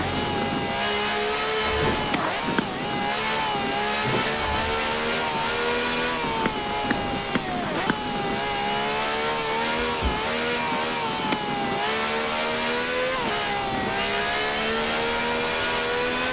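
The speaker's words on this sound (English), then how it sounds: "No clattery diesel engine here. This has a V12 with over 750 horsepower" A V12 engine of over 750 horsepower in a wide-bodied cab in Forza Horizon 4, revving continuously with rising and falling pitch through gear changes, loud and sustained with no talk.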